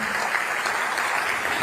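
Applause from a large ceremony audience at a launch event, steady dense clapping filling the hall, loud and close, with no pause throughout.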